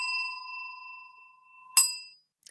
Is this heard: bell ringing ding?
yes